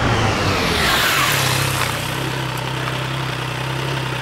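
A 2022 Triumph Tiger Sport 660 motorcycle engine roars under acceleration, loud at first, then settles into a steady, lower droning hum as it pulls away, with no talk.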